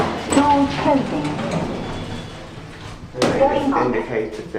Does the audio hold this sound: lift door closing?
yes